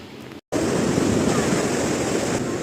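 Sea waves surge in over a sandy beach where a name is written, a loud continuous wash of surf and foam that starts abruptly after a brief silent gap and holds steady, with some wind noise.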